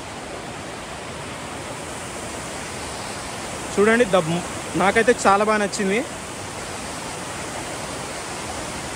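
Kuntala waterfall in Adilabad, a steady broadband roar of falling water that runs evenly throughout, with a person talking over it for a couple of seconds in the middle.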